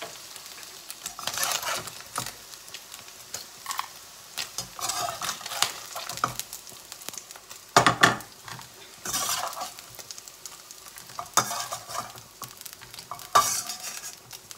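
Paneer frying in hot oil in a home kitchen, spluttering and sizzling steadily with sharp pops, plus scattered scrapes and clinks of a spatula against the pan.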